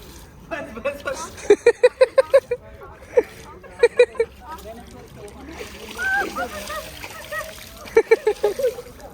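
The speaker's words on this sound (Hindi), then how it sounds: "इसमें पानी फेंका मेरे ऊपर।" Water is splashed and thrown at someone in a rapid burst of sharp splatters, then more splashing later, loud and close, mixed with excited shouting voices.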